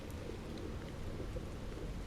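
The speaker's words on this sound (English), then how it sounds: "This must be Earth's rain." Steady rain in the video game Stellar Blade, a dense soft hiss with a low rumbling undertone, continuous and even with no voices over it.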